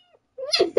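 Cat meowing in the video game God of War Ragnarok, one short close meow rising and falling, with a brief faint chirp before it.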